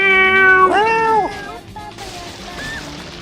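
A cartoonish cat meows in the video game Katamari Damacy Reroll, a single bright drawn-out mew near the start, then a fainter short chirp later, heard over background game music.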